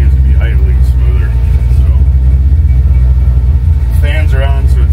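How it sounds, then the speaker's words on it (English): A car engine idles with its idle target raised from 850 to 900, running loud and close as a steady low rumble while someone talks over it. "I did change the idle target to 900 from 850. It seems to be idling smoother."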